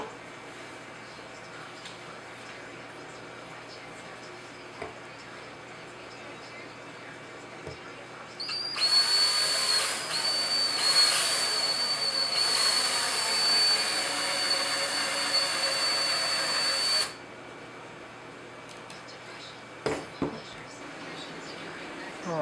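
A loud, steady drilling whine as a drill bores into an acrylic lid starts partway in, holds for about eight seconds with slight surges, then cuts off abruptly, leaving a quiet room.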